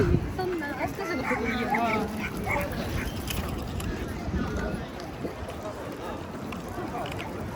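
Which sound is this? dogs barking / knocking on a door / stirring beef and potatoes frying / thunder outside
dogs barking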